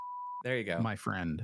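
A podcast censor button sounds a short, steady pure-tone bleep lasting under half a second, cut off abruptly as a voice starts talking right after it.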